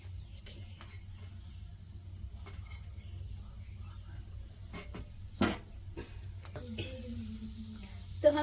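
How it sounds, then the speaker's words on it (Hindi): Small gulab jamun (milk powder dough balls, called rasgulla here) frying in a kadhai of moderately hot oil over low flame, a steady soft sizzle with a few clinks and knocks, some faint talk nearby. "तो हम छोटे छोटे रसगुल्लों को डाल दिए गरम तेल में।"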